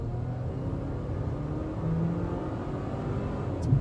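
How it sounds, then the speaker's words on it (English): A 2019 Volvo XC40 accelerating hard, a steady low engine drone and road rumble heard from inside the cabin, rising slightly in the middle as the transmission shifts. "It pulls really hard, and the transmission just drops the gears."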